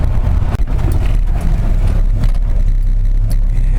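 1959 Ford F100 truck engine running loud and steady as the truck pulls over on a road trip, a deep continuous drone with faint clicks, no talk.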